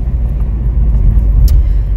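A car drives along with small pebbles caught in its wheels, producing a heavy, steady low rumble of road and engine noise from inside the vehicle, with a faint brief tick near the end.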